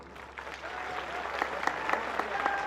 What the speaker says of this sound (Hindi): एक बार इन बच्चों को ताली बजाओ।